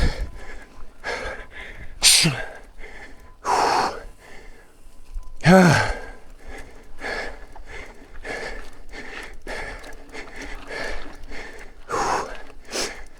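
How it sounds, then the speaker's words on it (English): A mountain biker on a cross-country course breathes heavily at a high heart rate, with loud, ragged gasps and sharp exhales repeating close to the microphone, some sounding like snorts, with wind and trail noise beneath. "This is how I breathe when my heart rate hits 150"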